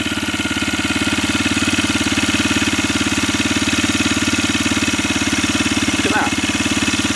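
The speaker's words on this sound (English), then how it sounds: "you close the throttle down and the engine picks up" A Honda BF5 outboard engine converted to run on LPG idles with the throttle closed, with an even, low chugging pulse, loud and close, unchanging throughout.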